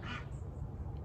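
A single loud, nasal quack from a young duck rings out briefly at the start, then fades into a low, steady background hum.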